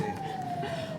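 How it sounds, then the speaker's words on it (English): An ambulance siren wails steadily in a single held, slowly falling tone, fairly faint and distant under a dull background hum, with no voices over it. "That's the ambulance"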